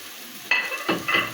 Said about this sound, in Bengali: এবার ভালো মতো নাড়াচাড়া করে একটু রান্না করে নামিয়ে নেব